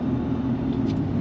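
A car drives on a road trip through Baja, Mexico, heard as a steady low rumble of engine and road noise from inside the vehicle, with no talking.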